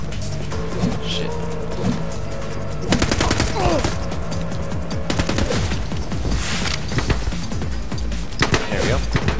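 Gunshots in the shooter game The Club, with repeated close sharp shots scattered through a dense, loud mix of game effects and music.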